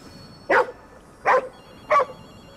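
A dog in the video game Ghostwire: Tokyo barks three times at evenly spaced intervals, each bark short, sharp and fairly close over a quiet background hum.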